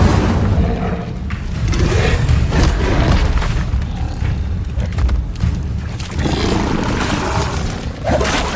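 Fire spells cast in Hogwarts Legacy burst out as loud, continuous roaring whooshes and booming thuds, dense and close, with a few sharper impacts.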